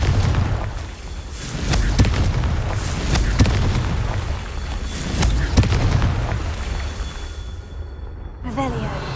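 Fire spell explosions in the video game Hogwarts Legacy, several sharp booming bursts at irregular intervals over a rumbling low roar, loud and close.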